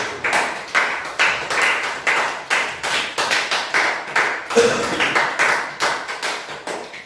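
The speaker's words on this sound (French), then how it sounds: "Acclamons pour le Seigneur" A church congregation claps in a steady rhythmic beat, many hands together at moderate volume, with a brief tone partway through.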